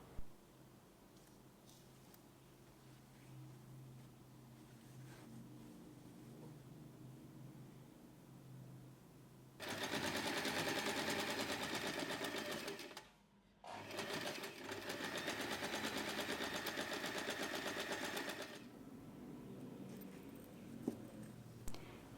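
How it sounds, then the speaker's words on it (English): A sewing machine top stitches main fabric and lining along a seam on a small snap-button wallet keychain, running loud and steady in two long bursts with a short pause between. "Top stitch both the main fabric and the lining fabric along the seam."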